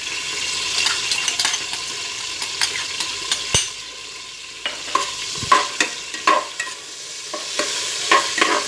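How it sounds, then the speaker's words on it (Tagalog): Garlic sautés in hot cooking oil for a Kapampangan monggo dish, giving a steady close sizzle broken by repeated clinks and scrapes of a stirring utensil against the pan. "gigisa na natin yung bawang natin"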